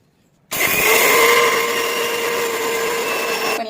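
A mixer grinder starts abruptly, powdering sugar and cardamom pods at a steady loud whir, a continuous motor roar with gritty grinding texture, no voices.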